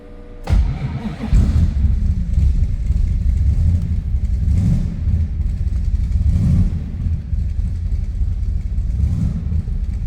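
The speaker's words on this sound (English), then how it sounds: "That was a cold start." A 1952 Willys Aero street rod cranks briefly and catches on a cold start, then settles into a loud, close, steady low rumbling idle with slight surges, no talking.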